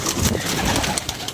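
Pigeons cooing in a steady run of soft, throaty calls with no pause, close by and fairly loud over a busy background.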